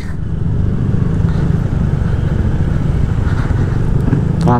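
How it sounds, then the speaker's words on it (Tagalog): A motorcycle threads through congested traffic in Tagaytay, its engine droning loud and steady up close, with the rumble of surrounding vehicles and a brief clatter near the end. "Yan ang kagandahan pag motor, no? Singit-singit lang."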